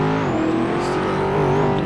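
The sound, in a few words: Ferrari engine and exhaust in video game GTA RP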